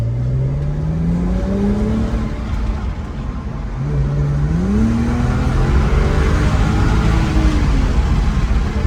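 Engine of a destroyed, rebuilt Copart BMW revving hard while driving, loud and close, with a rising and falling pitch as it accelerates through gears over steady road and drivetrain noise.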